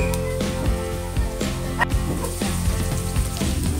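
Garlic sautéing in a frying pan for tinola gives a loud, close, continuous sizzle, with a few utensil clatters and a tonal background hum.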